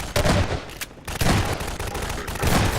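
Rapid, overlapping gunfire bursts from Half-Life 2 gameplay, loud and near, firing in clusters with brief gaps across the few seconds.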